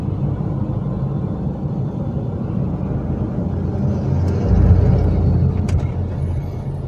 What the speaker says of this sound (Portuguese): Movimento de carros e motos aqui em Irecê é intenso.